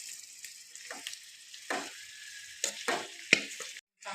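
Potato and sabudana stirred and frying in a pan, soft sizzling with scraping stirs and clinks against the pan, close and fairly quiet.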